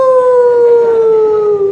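A performer in a Dulmuluk Palembang comedy stage show imitates a dog's howl with his voice, giving one sustained, slowly falling tone held loud and close for almost two seconds with no talk over it.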